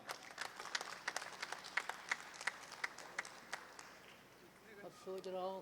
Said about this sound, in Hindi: आप पुरज़ोर तालियों से इस्तक़बाल करें